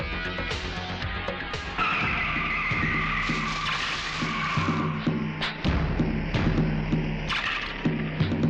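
A car skids and screeches with tire squeal, long grinding slides broken by thumps and shorter bursts, loud and close, with engine rumble underneath and no talk.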